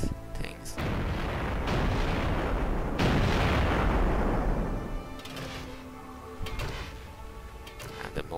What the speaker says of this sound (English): See, they can fire at the buildings from their Type 96 artillery.